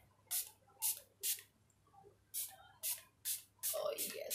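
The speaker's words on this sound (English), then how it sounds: "Then nitapulizia finishing spray yangu tena for the last time." A makeup finishing spray bottle hisses in eight short, close bursts, fairly evenly spaced, with the last spray running longer into a brief rustle.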